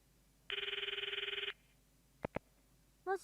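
A phone rings once in the Steins;Gate visual novel, a sustained buzzing electronic trill lasting about a second, followed by a couple of short clicks and a brief tone in an otherwise quiet scene.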